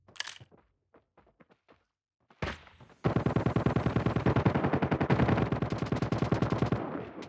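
Gunfire in a shooter video game: a few sparse clicks and a sharp shot, then a long, loud burst of rapid automatic fire with evenly spaced rounds, close and dominant, without talking.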